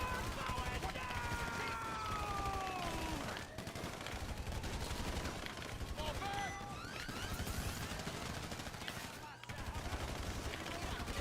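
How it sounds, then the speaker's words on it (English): Rapid gunfire in Grand Theft Auto, bursts of shots crackling continuously over game music and effects, with a voice talking over the action. "Guns blazing, boys."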